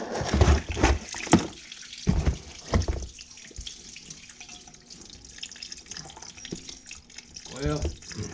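Diesel flush drains out of the engine of a flood-damaged Honda SH150 scooter and spills onto the floor, a running, splashing liquid trickle with drips. Someone talks intermittently over it.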